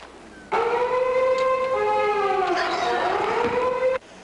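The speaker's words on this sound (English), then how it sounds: "The doorbell had a siren sound." A warehouse doorbell rings with a siren sound, a steady wailing tone with slowly shifting harmonic pitch that starts abruptly, holds loud for about three and a half seconds, then cuts off sharply over faint background noise.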